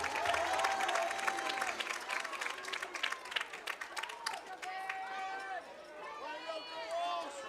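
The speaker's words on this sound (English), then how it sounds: "How about a round of applause for your Hector Wildcat cheerleaders?" Crowd applause for the Hector Wildcat cheerleaders at a high school football senior night, a steady wash of clapping and cheering heard from the stands with an announcer's voice and band-like tones mixed over it.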